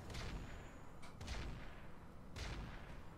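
Weapon fire in Roguetech, a BattleTech mech video game mod, comes as several dull booming bursts with rumbling decay, spread over a few seconds at moderate distance, with no voices.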